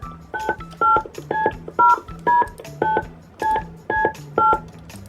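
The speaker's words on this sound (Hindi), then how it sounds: "अभी ट्रांसफर करके कॉल मिला देता हूँ" A run of touch-tone keypad beeps as a phone number is dialed, about a dozen paired tones in a steady rhythm, loud and close, with a low hum beneath and no talking.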